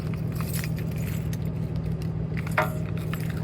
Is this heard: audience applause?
no